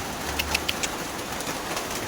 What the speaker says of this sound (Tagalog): Lakas ng ulan, men.